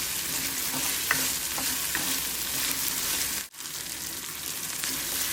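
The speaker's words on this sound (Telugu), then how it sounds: "ఇలా కైమా మొత్తం నూనెలో బాగా ఫ్రై అయ్యే వరకు బాగా ఫ్రై చేసుకోవాలి." Minced meat keema with cashews fries in oil, a loud, steady sizzle with occasional stirring scrapes and one brief dip partway through, heard close up without voices.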